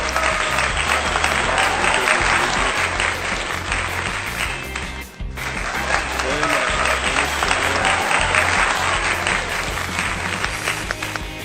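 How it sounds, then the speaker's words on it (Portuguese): A dense, loud round of audience applause keeps going throughout, with a momentary dip midway before the clapping picks up again, and a faint crowd murmur runs underneath. "Eu já queria te pedir de antemão uma salva de palmas."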